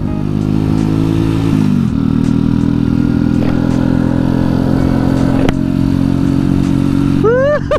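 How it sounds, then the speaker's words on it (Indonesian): A small manual-gear motorcycle with a foot-shifted, all-forward gear pattern runs steadily close by, its engine drone staying loud and constant, with a gear change near two seconds and a few brief revs toward the end. "Terus by the way ini motor pakainya sistemnya gigi"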